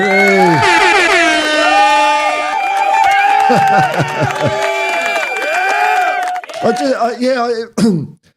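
A crowd cheer with a blaring air horn, apparently a sound effect, opens with bright sustained honks and whoops. The cheering then breaks into scattered shouts and tails off unevenly toward the end.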